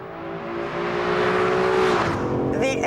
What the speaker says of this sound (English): The engine is a belter. It is such a treat to punish it. It sounds glorious